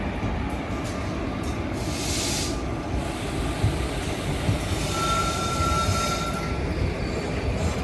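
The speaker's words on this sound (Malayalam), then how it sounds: "ഇതിപ്പോൾ പ്ലാറ്റ്ഫോം നമ്പർ 1ലേക്കാട്ടോ വന്ന് കയറുന്നത്." The Kannur–Alappuzha Executive Express rolls into platform 1 at Wadakancheri with a heavy, steady rumble and occasional hissing bursts, a brief metallic squeal rising near the end as it slows.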